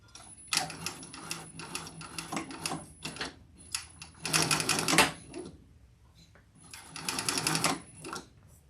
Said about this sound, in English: I'm going to increase my stitch length just a little. Okay, here we go. Hold your threads, Barb.